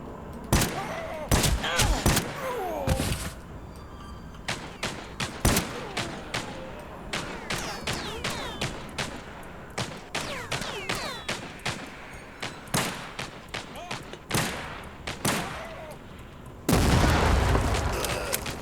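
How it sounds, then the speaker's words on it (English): Grenade explosions and heavy gunfire in the shooter game TimeSplitters Rewind: rapid bursts of shots and sharp booms punctuate the mix, ending in a loud, sustained blast of explosive noise near the finish. "They're throwing grenades."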